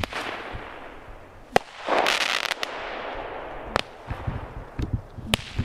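Pyrotechnics go off at night in snow on a frozen lake, sharp close cracks and bangs over a rushing, crackling hiss, with several loud pops spread across the clip.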